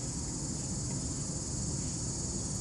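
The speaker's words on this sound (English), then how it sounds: "You can hear the cicadas." Cicadas drone in one continuous, even, high-pitched buzz that holds steady throughout, fairly faint and distant, with no voices over it.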